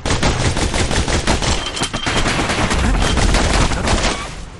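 Twin slinger pistols in the action game Bastion fire nonstop in a fast, steady stream of close, loud shots that carry on for several seconds before tailing off.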